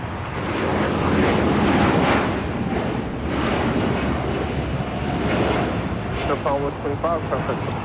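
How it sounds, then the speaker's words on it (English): All Nippon Airways Boeing 787-8 Dreamliner taking off from LAX, a loud rumbling jet roar that swells early and stays heavy, with brief high tonal chirps near the end. "This is All Nippon Airways, Flight 125, taking off to Tokyo Haneda on a 787-8 Dreamliner."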